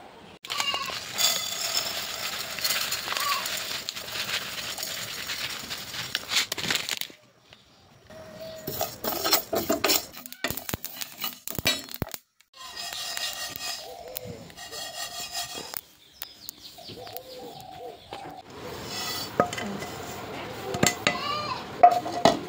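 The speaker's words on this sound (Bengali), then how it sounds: "এখন এগুলো সুন্দর করে বাইটে নিব।" Dried red chillies, garlic, five-spice and small mustard seeds being ground by hand on a stone for a village-style olive pickle, giving a steady scraping, rubbing grind in long stretches broken by short pauses.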